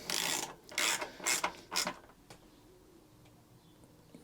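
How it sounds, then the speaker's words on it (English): A ratchet tightens the bolt holding a new condenser on a Honda HR21 lawnmower. Four quick bursts of close clicking come within the first two seconds, then it fades to near quiet. "We're now going to bolt down the condenser."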